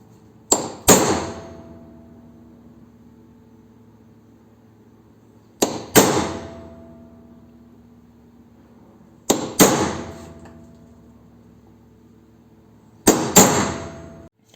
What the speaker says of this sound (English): Centre punch the holes.